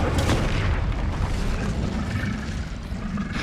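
Incendio fire spell in the video game Hogwarts Legacy: a loud, deep booming blast with a roaring burst that rumbles on heavily for several seconds, no voices over it.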